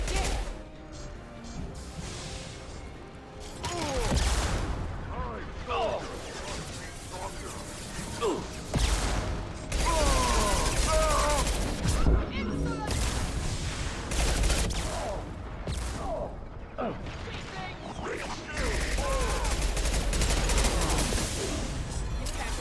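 Heavy, dense gunfire from Mass Effect 2 combat: rapid automatic bursts and impacts in repeated waves, loud and close, with voices speaking at times under the shooting.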